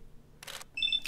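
Fallout: New Vegas weapon reload: a short burst of metallic clicking and sliding mid-clip, then a bright mechanical snap and tonal clack near the end, crisp and close with no talk.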